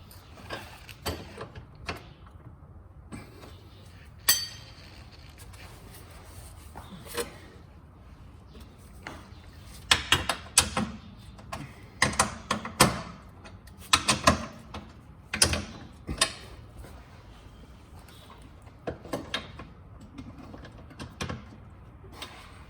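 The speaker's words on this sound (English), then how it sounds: "we use my battery powered ratchet to get it off a little bit quicker" Battery-powered ratchet loosening bolts underneath a Porsche Cayman 987 during a transaxle fluid job, heard as bursts of whirring and clicking mechanical chatter with sharp metallic clanks, some spaced and some clustered, close by over a low background hum.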